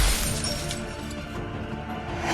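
Glass breaks during a fight in The Wolf Among Us game, a loud, dense crash and crackle of shattering that fills the short moment, with no voice over it.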